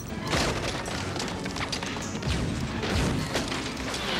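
Gunfire in an action film scene: dense, loud crackling volleys and heavy booming thuds in continuous chaotic bursts, with faint voices mixed in.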